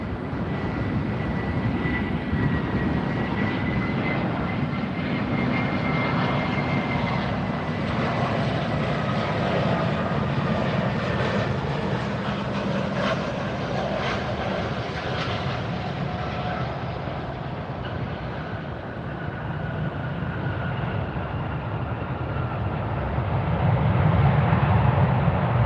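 A DC-3 cargo plane takes off at Fort Lauderdale, its piston engines and propellers producing a sustained, loud droning roar that rises near the end.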